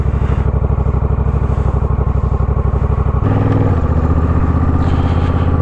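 Honda Rebel 1100 DCT motorcycle idling with a close, steady loping thump, then revving and pulling away as it shifts into a smoother, louder drone.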